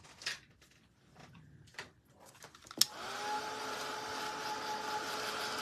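After a few soft handling clicks and taps, a handheld heat tool or dryer switches on with a sharp click and settles into a steady, close whooshing hum with a faint tone, drying paint on a vintage wooden pant hanger.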